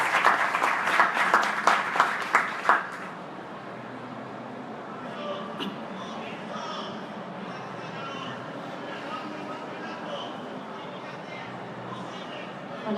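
Audience applause at the Games World Barcelona event, a burst of clapping for about three seconds that then gives way to a quieter hall murmur.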